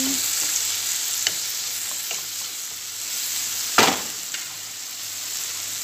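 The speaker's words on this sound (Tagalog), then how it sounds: "Haluin na natin." Food stirred in a cooking pan over a steady sizzle, with a few scraping utensil strokes and one louder clack near the end; no talking.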